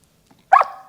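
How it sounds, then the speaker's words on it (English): A dog bark generated by an AI audio model: one sharp, loud bark that trails off quickly, heard alone after near silence with a faint click before it. "So now I put dog barking."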